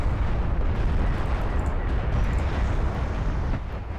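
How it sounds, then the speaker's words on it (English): Artillery barrage in a strategy video game, a dense continuous roar of overlapping explosions and booms, loud and sustained throughout before easing slightly at the end. "Barrage is doing some good damage though."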